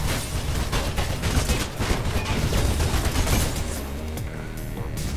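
Dense, continuous bursts of machine gun fire in the Mirror's Edge video game, loud and sustained throughout, with crashing impacts blended into the barrage.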